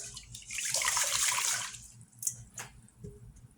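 White rice being rinsed in a bowl: a steady rush of running water and swishing for over a second, then scattered drips, splashes and wet squishes as the grains settle, close and moderately loud.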